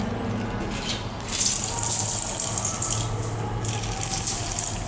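A bathroom shower runs water, a steady close hiss and splash that swells louder partway through, with no talking.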